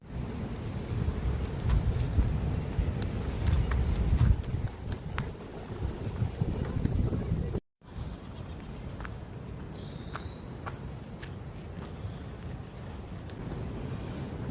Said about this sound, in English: It's still windy here in Great Linford.